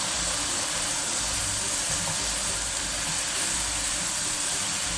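Eggplant stir-frying in a pan with green onion, fish sauce, cooking wine and chili powder: a steady, loud broadband hiss and sizzle continues without pause.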